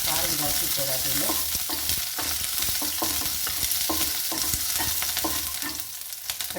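Fennel, curry leaves and two green chillies fry in a pan, a loud steady sizzle with stirring scrapes and clinks repeating throughout, no talking.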